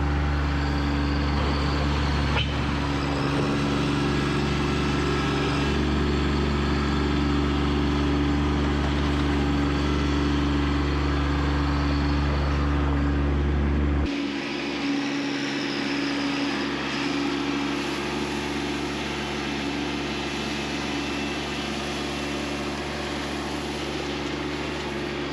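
A Kubota B2601 compact tractor runs steadily up close as it moves gravel with a Countyline 5-foot box blade. The diesel drone is loud and continuous, and the engine note drops and changes about halfway through.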